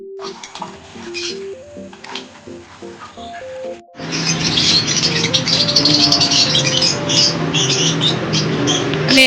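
Pet birds chirp in short bright bursts, first faintly over a plucked melodic tune, then louder and denser alongside clattering and rustling from their keeping area.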